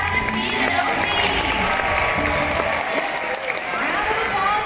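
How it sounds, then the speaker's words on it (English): Audience applause at a SeaWorld Orlando otter show, a steady wash of many hands clapping with crowd noise and some voices mixed in, holding at an even level throughout. "how about a nice round of applause for Steve and Opie?"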